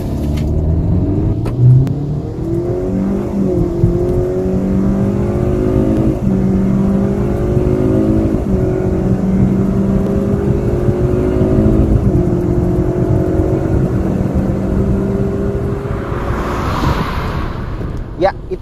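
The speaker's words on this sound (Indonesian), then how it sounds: "Itu dia 0 ke 100 Hyundai Stargazer X." A Hyundai Stargazer X with a 1500cc four-cylinder Smart Stream G engine accelerates hard from a standstill to 100, its engine note rising through several climbing revs and gear changes, loud and close, with a brief lull near the end.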